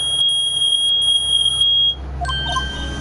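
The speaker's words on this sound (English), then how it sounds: "It's beeping! The metal detector's found something! Sure is loud enough about it." Video game metal detector beeping in Phoenix Wright: a loud, steady high electronic tone with short pulsed accents, then a sudden change to a different set of synthetic tones and chimes over a low hum.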